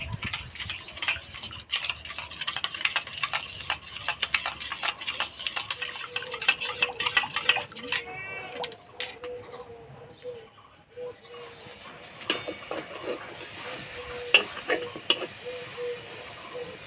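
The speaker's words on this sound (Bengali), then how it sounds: "এইভাবে কিছুক্ষণ দইটা ভালো করে ফেটে নিতে হবে।" Yogurt mixed with sugar and a little turmeric is beaten in a bowl with rapid, rhythmic scraping and clinking strokes that continue steadily for a long stretch, with a brief pause partway through.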